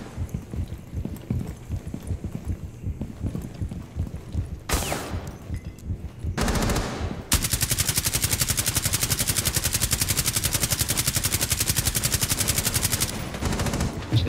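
Gunfire in the video game Rainbow Six Siege, with scattered single shots and short bursts giving way to a long, loud, rapid automatic volley that holds steady for several seconds, close and dominant with no talk over it.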